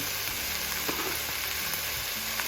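Shrimp frying in a pan for Hawaiian-style long rice noodles with achiote, a steady close sizzle throughout with faint scrapes and no talk.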